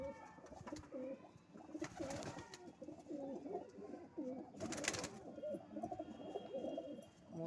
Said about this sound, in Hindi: आज हम आए हैं ईसा भाई के यहाँ, उनके कबूतरों का शो कराएंगे